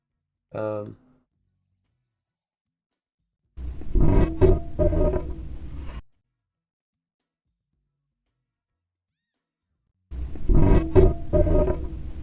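A short low burst, then two harsh, distorted roaring blasts of a sound effect with clipping distortion, separated by silence, loud and gritty with crunchy clipping.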